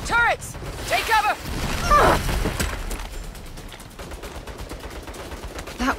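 Turret gunfire from the Saints Row 2022 video game rattles in short, loud bursts with mechanical clatter, mixed with shouting voices early on and then a steady background rumble.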